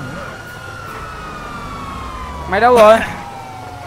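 A police car siren wails in a video game, a rising and falling electronic tone over engine hum, with a loud burst near the end as a voice talks over it.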